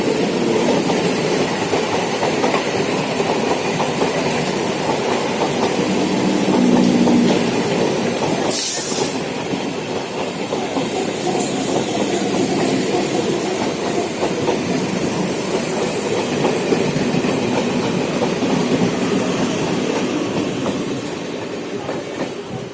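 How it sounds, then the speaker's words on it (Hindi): A train pulling into Bethuadahari railway station on the service from Lalgola, a steady loud rumble of wheels and carriages with clickety-clack rhythm and a brief hiss, filling the whole clip without talk. "अभी ये ट्रेन आ रहा है लालगोला से।"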